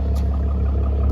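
Close, steady, loud engine rumble from a Mercedes W203 with a straight-piped exhaust, idling heavily or lightly blipped, with a deep low-end drone and no voices.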